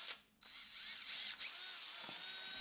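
A power drill bores a pilot hole in a scrap piece of wood, whining steadily and faintly with a brief pause after the start and a short dip partway through.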